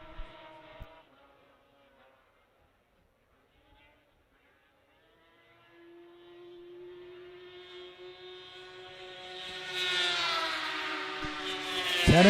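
A 2000 Ski-Doo racing snowmobile's engine at the Canadian Power Toboggan Championships, starting faint and swelling into a loud, high-pitched whining roar as it speeds past near the end.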